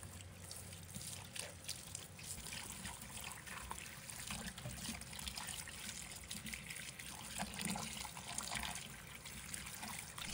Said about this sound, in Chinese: 接着处理好的芥菜将其放入盆中，用流动水仔细清洗，去掉表面的泥土和杂质